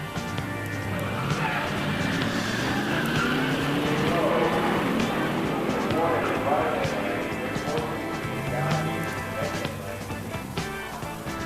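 Drag race final in the pure stock small block class, a '71 Dodge Demon GSS 340 automatic against a '71 AMC Hornet SC 360 4-speed, loud engine roar rising and sweeping through the run as an announcer talks over it.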